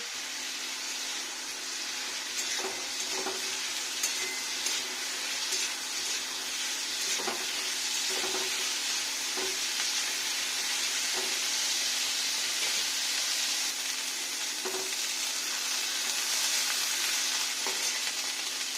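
Mixed vegetables, with potato among them, frying in a pan for a paneer and vegetable dish: a steady, close sizzle with a faint hum underneath and occasional soft clinks of stirring, no talking.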